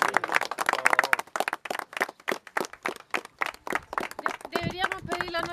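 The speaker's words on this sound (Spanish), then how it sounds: "un gran aplauso para la Cristina." Clapping for Cristina at a reading-promotion gathering of librarians and writers in Freirina, a sparse, uneven run of claps that gives way to a voice near the end.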